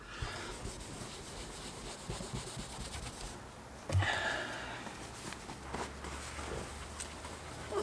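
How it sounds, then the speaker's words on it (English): A fine finishing microfiber cloth rubbing a car panel after paintless dent pulling, soft steady scrubbing strokes close up and fairly quiet, with a brief thump partway through. "fine finishing microfiber. Give it a good rub."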